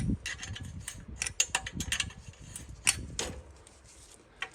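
Wrench or socket clicks and metallic rattles as bolts are undone on a McLane gas edger under repair, a run of close, intermittent ratcheting and clanks with brief pauses.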